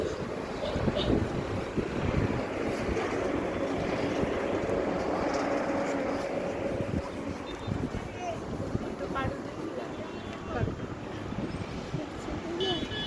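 Strong wind gusting outdoors, buffeting the microphone in a continuous low rumble with a faint wash of water underneath, steady throughout.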